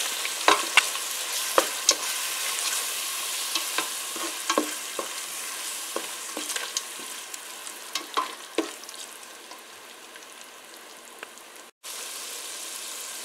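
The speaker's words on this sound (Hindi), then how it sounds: "शान के मसाले को हम तेल में अच्छे से तलेंगे।" Shaan biryani masala fries in hot oil with a steady, crackling sizzle, close up, punctuated by scattered clicks and pops as the spice mixture is stirred in the pan.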